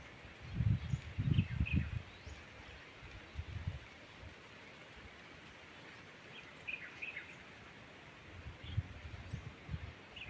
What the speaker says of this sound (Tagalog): Pakinggan mo ang simoy ng hangin